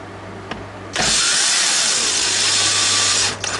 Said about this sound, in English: Now using my drill